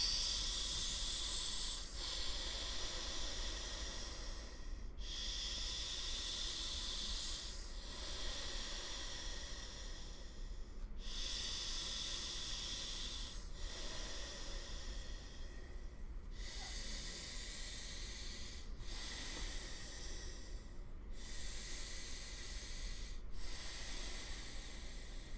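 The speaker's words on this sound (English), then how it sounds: "we'll do 3 cleansing breaths" Slow, steady breaths drawn and pushed through alternating nostrils during a meditation, each hissing rush swelling and fading in a regular cycle of roughly three seconds, close and fairly loud over a constant low hum, with no talking.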